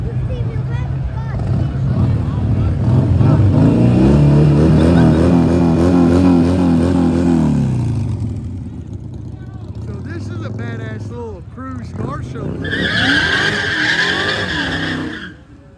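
A car at a cruise event does a burnout, its engine roaring loud with rising revs and sustained tire squeal before easing off, then a short high squeal returns near the end; voices are heard in the background.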